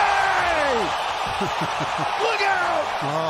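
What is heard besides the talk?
basketball arena crowd cheering a LeBron James play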